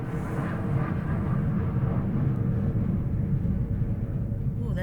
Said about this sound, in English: Ooh, that plane certainly broke the sound barrier. It sounded like it was right on top of the house.